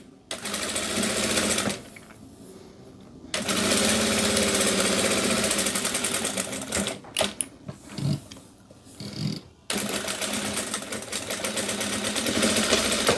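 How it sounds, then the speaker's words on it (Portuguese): A sewing machine stitches over a red fabric collar on a bandana, running in loud, close, steady whirring bursts separated by short pauses and stops. "aqui eu venho costurando por cima mesmo da gola"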